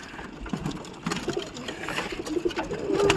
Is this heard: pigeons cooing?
yes